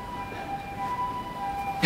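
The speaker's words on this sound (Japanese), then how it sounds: "救急車通るな。" A faint, steady ambulance siren wails in the distance as it passes, against low background noise, ending with a short rustle.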